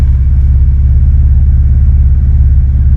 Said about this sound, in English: This is 6-cylinder flat engine, and you can hear me, and it's just right behind me.